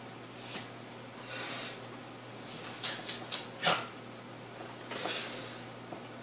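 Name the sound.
dog snorting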